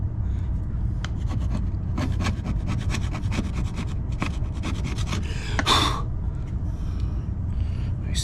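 A surface on a Berger yacht is scraped and cleaned during a water leak repair, a steady rasping rub with a run of quick strokes, close up over a constant low rumble.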